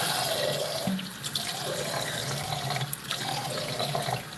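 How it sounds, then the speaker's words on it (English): A faucet runs continuously into a sink while a face is rinsed off, the close, steady rush of water broken by small splashes. "I'm just going to rinse off my face a bit more."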